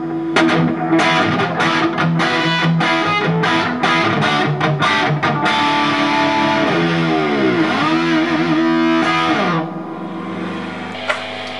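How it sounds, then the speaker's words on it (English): Distorted electric guitar riffs from a DIY Frankenstrat-style guitar with reverb set around half, loud and close, with fast picked notes, sustained chords and a dive-bomb bend near the end before a quieter ringing tail. "I'm going to add in a little bit of reverb now as well"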